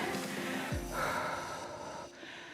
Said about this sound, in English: Huge breaths.